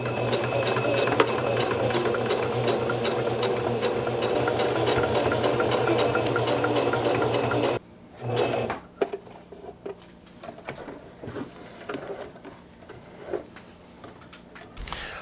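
A sewing machine runs continuously for about eight seconds stitching the shoulder seam of a western cowboy vest, loud and close with a rapid even rhythm, then stops, followed by quieter handling clatter.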